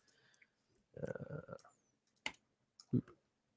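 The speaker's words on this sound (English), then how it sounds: "Sorry about the typing noises. I have a very awesome mechanical keyboard, but it is very loud." Sparse, loud clacking keystrokes from a mechanical keyboard: a short burst of rapid clicks, then a few isolated taps, close and otherwise quiet.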